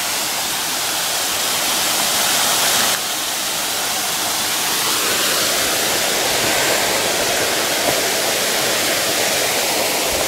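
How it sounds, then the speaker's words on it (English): A waterfall on a stream in Hodders Combe pours with a loud, steady broadband rush that fills the whole stretch without pause. "you can see the waterfall"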